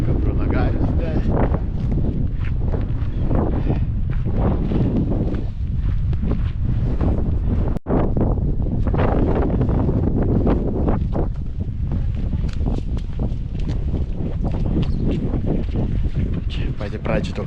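Strong gusty wind at the entrance of the Mount Sinai trail in Egypt, loud buffeting roar battering the microphone throughout, with a person talking over it.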